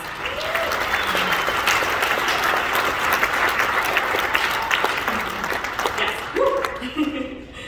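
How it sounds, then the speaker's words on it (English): Sustained applause from a gala audience fills the room, a dense steady wash of clapping lasting several seconds before thinning out at the very end, with a voice faintly heard over it. "So let's give you a round of applause."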